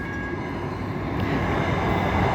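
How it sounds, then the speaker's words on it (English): A train at an Indian railway junction station rolls past close by, with a loud, continuous low rumble and rattling of the cars building slightly to the end. No voices are heard. "This is the train again."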